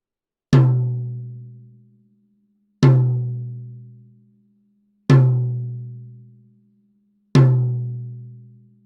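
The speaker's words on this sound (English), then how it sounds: "let's hear how the drum sounds now" Four evenly spaced strikes on a tom drum, each ringing out with a low resonant tone that decays slowly before the next hit.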